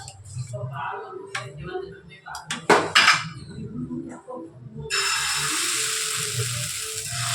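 Wheat flour adai dosa batter is poured onto a hot pan: a few metal clanks of utensils come first, then a loud, steady sizzling hiss that holds to the end.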